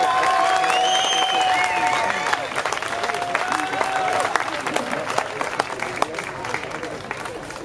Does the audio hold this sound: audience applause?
yes